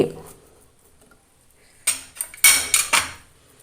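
A utensil clinks and scrapes against a bowl while fish ball mixture is stirred together, with a quiet start followed by a handful of sharp, close clatters in quick succession.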